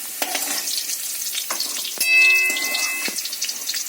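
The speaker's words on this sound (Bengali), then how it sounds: "আলুটাও ভাজা হয়ে গেছে" Steady crackling sizzle of potatoes frying in hot oil, continuous and close, with a brief running-tap tone partway through.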